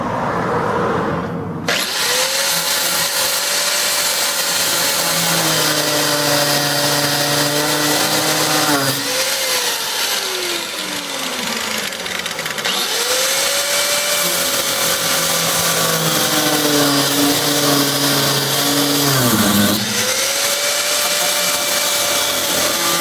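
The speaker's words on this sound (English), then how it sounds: "So we're just gonna stuff the grinder in" An angle grinder cuts through the coil spring of a Volvo wagon in a loud, continuous metallic whine that dips and rises in pitch as the disc bites and eases off, running for about twenty seconds.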